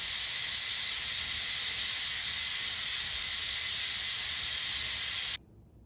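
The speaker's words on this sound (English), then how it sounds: "I just turn that valve that way to release the pressure. You should see the steam coming up as it" Steam hisses steadily and loudly from the release valve of a pressure cooker making bone broth, a close continuous jet that holds for about five seconds and then cuts off abruptly, leaving only quiet room sound.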